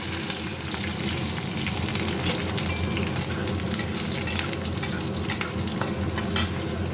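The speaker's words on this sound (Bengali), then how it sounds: "এখানে কড়াইতে তেল দিয়েছি, একটু তেলে একটু সাঁতলে নেবো।" Garlic and green chilies fry in oil in a wok with a steady, dense sizzle, and a spoon stirs them in the pan. The sound stays close and fairly loud throughout, with no voices.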